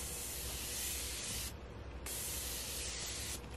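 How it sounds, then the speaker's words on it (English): Morphe Continuous Mist setting spray is misted close up in one long continuous hissing spray, a brief gap, then another sustained burst, with no talking. "We're gonna use the Morphe Continuous Mist."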